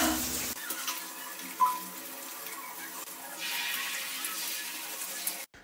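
Shower water running steadily at home, a close, continuous hiss of spray with a brief splash partway through, stopping abruptly at the end.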